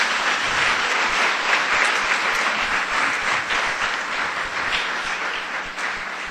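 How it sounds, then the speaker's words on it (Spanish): Congregation applauding in a Spanish-language church service, dense sustained clapping from many hands filling the room, steady and loud throughout with a slight fade near the end. "dale un aplauso al Señor, si es para el Señor"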